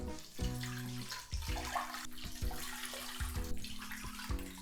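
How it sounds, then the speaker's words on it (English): Cold water runs into a big cooking pot holding pork belly for Japanese chashu, a steady close pour with a shifting resonant tone and no talking. "Then here I'm gonna put in some cold water."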